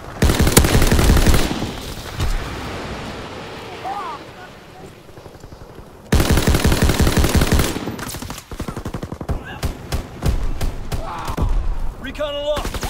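M1919 machine gun firing in a video game, long loud bursts of rapid automatic fire with a lull in the middle, then dense fire again amid short shots, with voices shouting between bursts.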